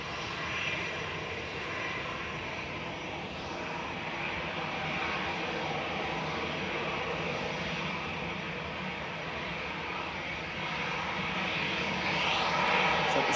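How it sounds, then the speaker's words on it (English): A small Loganair propeller airliner taxis at Manchester Airport, its engine drone steady and moderately distant for the whole stretch, rising a little toward the end, with no talk over it. "little Logan Air prop is taxiing out"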